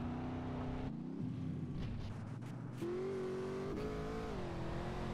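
A car engine in GTA San Andreas revs steadily, its pitch dropping and rising as the driver shifts and accelerates, loud and continuous with a brief dip midway.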